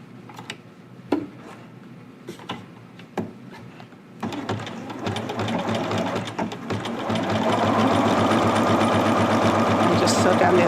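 A sewing machine stitches down the side of a jogger waistband. A few sharp mechanical clicks come first, then the motor starts with a steady, close, rapid whirring hum that grows louder and runs continuously to the end.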